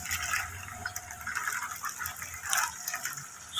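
Water is poured into a container of coins cleaned with Ariel powder soap after being buried in salt water, a close, splashing, gurgling fill with bursts of louder sloshing.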